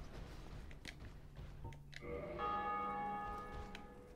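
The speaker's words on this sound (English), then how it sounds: "someone just beat the gargoyle boss and ring the bells." Bells in Dark Souls ring out after the gargoyle boss is beaten, a sustained resonant chime entering midway and lingering over quiet game ambience and faint clicks.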